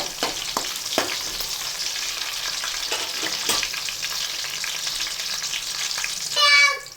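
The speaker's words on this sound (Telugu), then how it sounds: "ఒక 3-4 పచ్చిమిర్చి ఇలా కట్ చేసుకొని వేసుకోండి. ఇది ఒకసారి ఇట్లా ఫ్రై చేసుకొని" Caraway seeds and chopped green chillies frying in oil in a pan for a dhaba-style chicken curry, a steady close crackling sizzle with a few sharper pops and a louder burst near the end, no talking.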